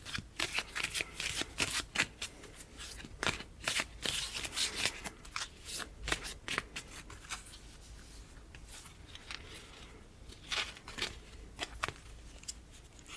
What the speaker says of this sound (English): next, I'm going to draw a moon phase card